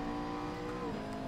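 A McLaren MP4-12C engine revs in the Assetto Corsa racing game at Spa, producing a steady, sustained drone with a slight pitch shift, fairly quiet and heard alone.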